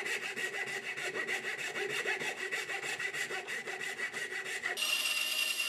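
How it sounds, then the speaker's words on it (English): Coping saw cutting through wood for a wooden sword, a quick steady rhythm of rasping back-and-forth strokes, close and clear with no talk, ending in a brief hiss. "If all you have is a coping saw, it'll still work fine."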